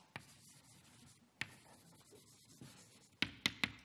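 Chalk or marker strokes on a lecture board in a classroom, faint scratchy writing with a few sharp taps and clicks near the end, no voices.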